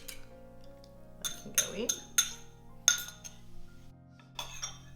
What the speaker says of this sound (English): I'm going to lightly beat the eggs, just give them a little stir with the fork.